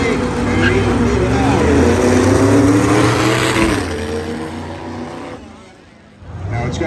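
A drag race car with a factory-supercharged 2-liter four-cylinder from a Cobalt SS accelerates hard at the strip, its engine droning loudly for several seconds before fading, with a commentator talking over it.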